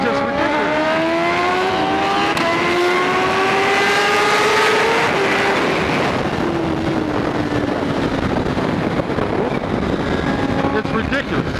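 A Kawasaki Ninja H2 accelerates hard while cruising on a road in Ohio, its engine note rising steadily through the gears under heavy wind rush, loud and close to the rider.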